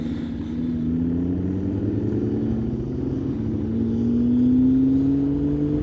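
Heard from a motorcycle on a country road, a Porsche 911 and an Audi R8 drive nearby with a steady droning engine hum whose pitch slowly rises and falls, continuous and fairly loud, blended with wind and road rumble.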